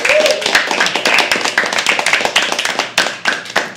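Audience and performers at a poetry open mic at The Habitat applaud the venue staff, giving a few seconds of dense, close hand clapping with irregular sharp claps that thin out slightly toward the end.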